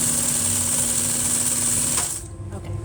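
Sewing machine running a steady continuous stitch along an upholstery seam on a chair, loud and close, stopping abruptly near the end.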